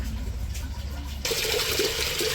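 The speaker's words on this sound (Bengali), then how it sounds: "মা আবার মুসুরির ডাল ধুয়ে নিতেছে" Red lentils being rinsed in a village kitchen, a rush of pouring, sloshing water that starts abruptly partway through and carries on loud and close, with quieter handling noises before it.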